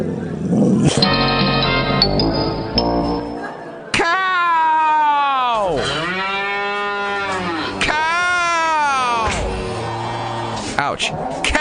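Cows moo loudly: several long, drawn-out, swooping calls follow one another after a brief harmonic tone at the start, close and dominant throughout.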